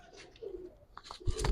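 Pigeons coo softly in a loft, low throaty calls close by, with handling noise and rustling near the end.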